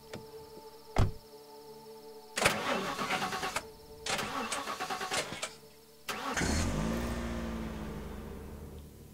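A car engine cranks several times in separate sputtering bursts, then catches and settles into a steady, close idle with a low rumble.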